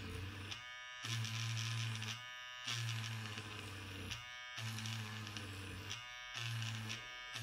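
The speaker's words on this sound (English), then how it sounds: "Now turn your eraser on and just drag it while it's on across the sandpaper." A Derwent battery eraser buzzes steadily while dragged across sandpaper, its motor whine dipping and rising in rhythmic strokes about every second and a half, close and alone.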